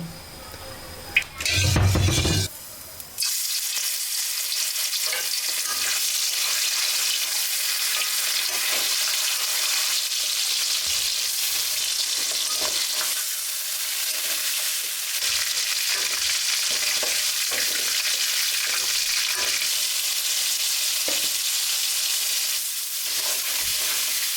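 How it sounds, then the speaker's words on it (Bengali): Meat frying in oil in a hot wok, a steady loud sizzle that runs continuously after a brief clatter at the start, with no talking. "এখন তেল দিয়ে দিব মাংসটা ভেজে নেব হালকা লাল কালার আসলেই নামিয়ে নেব"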